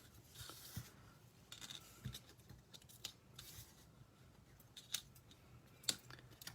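Scissors snipping out small cookie-shaped paper pieces for a slimline ginger cookie card, quiet and close, with scattered faint clicks of the blades over a soft background.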